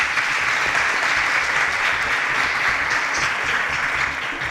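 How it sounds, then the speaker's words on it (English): A studio audience at a student quiz show gives a strong round of applause for contestants who answered correctly, dense and steady clapping that continues without pause for over four seconds. "Round of applause for them."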